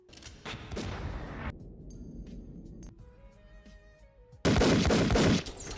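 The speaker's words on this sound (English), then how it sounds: "The agent killed him at the end, shot him. Shot him." Gunshots ring out in an action movie scene, a sharp burst of loud cracks at the start and a dense volley of fire near the end, with tonal music and hum between them.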